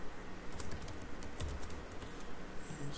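Quiet, rapid typing on a computer keyboard while writing code, with soft irregular key clicks and no talking.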